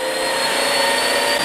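An EZhome cordless wet and dry floor vacuum cleaner runs on high suction, giving a loud, steady, close whine with a sustained high tone and no talk.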